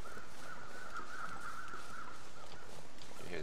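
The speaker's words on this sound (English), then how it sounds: "You hear the crows off." Crows caw in the distance over a steady wind-like hiss in the snowy wilderness of the survival game The Long Dark, the calls drawn out and faint rather than sharp, with no talking.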